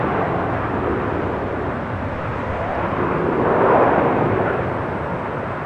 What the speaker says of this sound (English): This flight is American Airlines 1979, coming in from Chicago on the